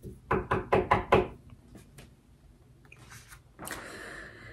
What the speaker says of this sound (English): she knocked briskly on apartment 2B